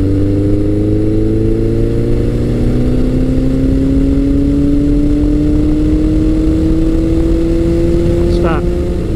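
A Suzuki GS1100G motorcycle accelerates hard in a 40 to 80 mph roll-on, its engine note loud and close and rising smoothly and continuously the whole time.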